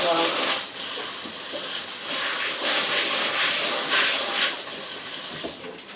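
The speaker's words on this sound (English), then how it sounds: "take these to the sink and just rinse them through real quick" Running tap water splashing over pinto beans in a colander at a kitchen sink, a steady broadband hiss and spatter that rises and falls slightly as the beans are stirred, close and fairly loud throughout.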